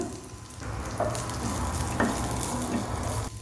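Green capsicum toasts lightly in melted butter in a pan, giving a steady soft sizzle with a few gentle stirring scrapes and no voices.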